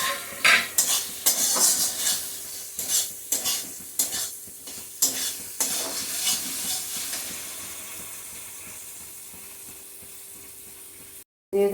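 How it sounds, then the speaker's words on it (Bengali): Diced onions tossed into a pan of frying spices, loud bursts of sizzling and stirring with spatula scrapes against the pan, settling into a steady hiss before a short cut in the sound. "এখন দিয়ে দেবো এই যে ডুমো ডুমো করে রেখেছি পেঁয়াজগুলি"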